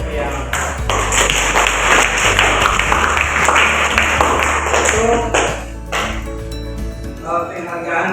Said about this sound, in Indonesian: Mari kita beri aplaus untuk kelompok yang